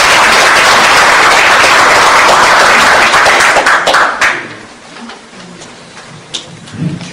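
Dense, loud applause from a crowd at a party founding convention fills the first four seconds, then fades into quiet room noise with a few scattered claps.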